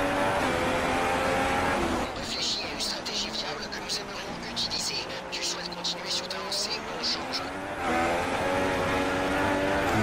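Ferrari and McLaren race cars lap the Malaysia circuit in a video game race, engines whining and shifting as a car surges past, heard under continuous commentary.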